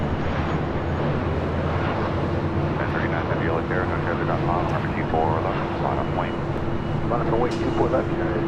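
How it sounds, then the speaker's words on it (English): A United Dreamliner takes off at LAX, its jet engines a broad continuous roar that holds steady throughout, with voices talking over it. "we should be seeing that United Dreamliner taking off"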